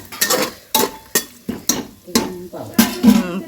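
Metal cookware clatters in a pan during stovetop frying and stirring for a Tulu village meal, with sharp repeated scraping and clinking strokes at an uneven rhythm and faint sizzling between them.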